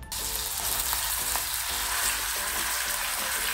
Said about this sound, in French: Je vais directement commencer à cuire la viande à feu très doux.